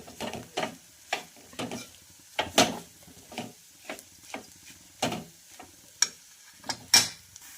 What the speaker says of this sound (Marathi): तर मस्त अशी आपली चटणी फ्राय होत आहे